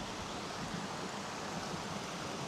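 Waterfalls tumbling down a river on Kinder Scout in the Peak District: a steady, even rush of flowing water, soft and continuous throughout with no voices.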